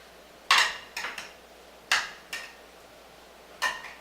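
Chicken pieces turned with metal tongs in a pan: a few sharp clinks and clatters, one strong knock then several lighter taps spaced over a few seconds, close and clear with no talk.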